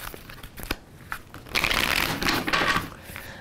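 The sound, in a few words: shuffling tarot cards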